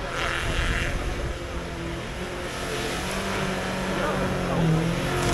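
A 2WD autocross car at the Auto Traks 2024 event in Briežkalns revs hard near its rev limiter, a sustained, fairly loud engine drone with a commentator talking over it.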